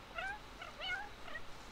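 A fluffy cat in The Sims 4 being brushed gives several short, quiet meows and purring chirps in a row, with faint game ambience behind them.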